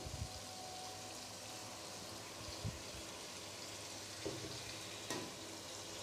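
Spices frying in a pan for masala bhindi, with yogurt being added: a quiet, steady low sizzle with a few soft stirring bumps, no talk.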